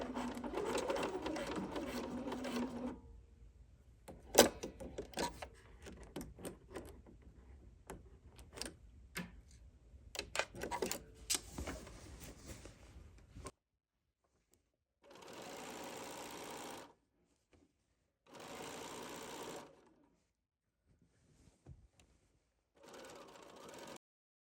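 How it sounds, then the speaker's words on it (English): A sewing machine with a walking foot stitches quilt pieces in bursts of rapid, even mechanical ticking, separated by pauses and short runs later on. "with the sewing machine"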